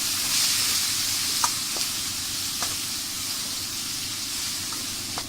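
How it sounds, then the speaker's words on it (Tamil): Chopped tomatoes cooking in oil in a pan for dry fish kuzhambu, a steady broadband sizzle held for the whole span with a few faint pops, close and even. "தக்காளியும் நல்லா வேக விடுங்க எண்ணெயிலேயே"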